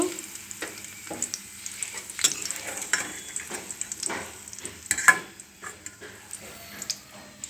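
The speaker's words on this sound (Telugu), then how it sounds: "నేనైతే నెయ్యి వేసుకొని వేయించుకుంటున్నాను" Vermicelli fries in ghee in a pan, with a soft sizzle under frequent sharp scraping and tapping strokes of a spatula, close and without speech.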